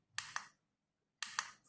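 Button on a mechatronics prototype clicked to adjust solar panel voltage, two pairs of quick, crisp clicks separated by a short pause, close and quiet.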